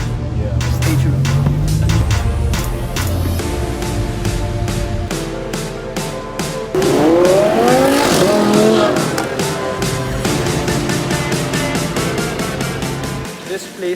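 Lamborghini fitted with a new gold Fi exhaust drives past, its loud engine revving and rising in pitch through gear changes, with a brief squeal of tires, then fading as the car pulls away.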